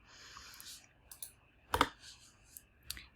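Keys tap on a computer keyboard in a few sparse, quiet clicks, with one sharper keystroke in the middle, alone in a near-silent room.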